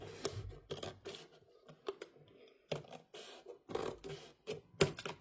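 Scissors cut paper for a homemade house decoration craft: a series of crisp, close snips and rustles arriving at irregular intervals, with no talking.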